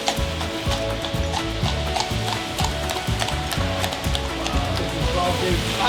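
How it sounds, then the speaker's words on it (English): Horse hooves clip-clopping along a street in Serbia, a steady, even rhythm of close, distinct hoof strikes over the noise of a busy outdoor background. "sometimes you have a horse coming through"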